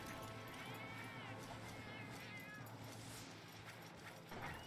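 A person imitates a cat meowing during a Monster Hunter Frontier game session, drawn-out wavering meows repeated over a steady background of game sound and noise, fairly loud and close.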